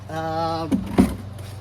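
A small Kohler 6.75 engine on a Toro Recycler self-propelled lawnmower with a rusty flywheel hums steadily for a moment, slightly rough, then cuts off, followed by two dull mechanical knocks.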